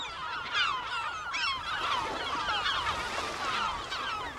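Migratory birds on the Estonian west coast honking in a continuous, dense chorus, like a flock of geese calling at once, with no voices.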